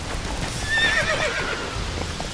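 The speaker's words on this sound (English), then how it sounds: "Stupid fucking horse." The horse Roach whinnies in The Witcher 3 video game, one clear neigh rising and falling over a steady clip-clop of hooves and rolling background sound, heard close and without talk.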